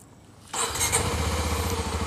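A big motorcycle starts with an electric starter, no kickstarter: a short silence, then the engine catches at about half a second and settles into a steady, close, loud idle rumble, with no talk.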